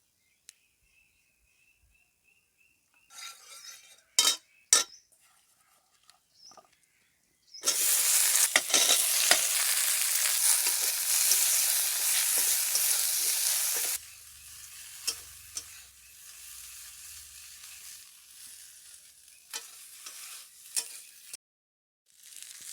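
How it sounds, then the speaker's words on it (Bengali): Okra sizzles loudly in hot oil in a wok as it is fried and stirred. A few clanks and stirring scrapes come first, then a strong, steady hiss of frying follows, easing into quieter sizzling with occasional stirring knocks. "কড়াইয়ের মধ্যে আবার একটু তেল দিয়ে ভেন্ডিগুলো ভেজে নেব"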